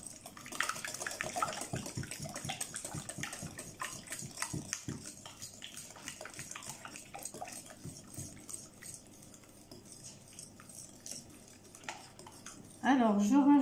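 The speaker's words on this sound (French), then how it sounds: "Alors vous pouvez utiliser soit le fouet à main ou alors le fouet électrique." Coconut flan mixture is whisked by hand in a bowl. Rapid, quiet metallic clinking and scraping repeats continuously against the bowl. Near the end a voice starts speaking.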